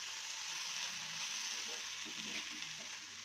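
Chopped okra sautéing in a pan makes a soft, continuous sizzle and hiss, steady and fairly faint, with no voices.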